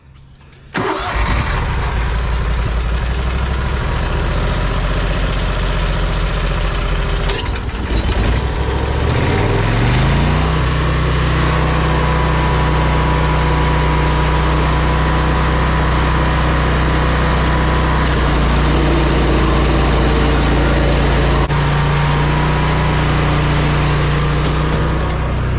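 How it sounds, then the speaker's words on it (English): A stump grinder engine starts after a brief quiet moment, then runs loud and close at a steady drone, with a stutter and a rising shift in pitch as it settles into a sustained hum. "I like this stump grinder"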